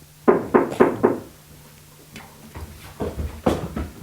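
Knuckles rap on a door indoors: four sharp, evenly spaced knocks, a brief pause, then a looser cluster of further knocks, all close and clear with no voices.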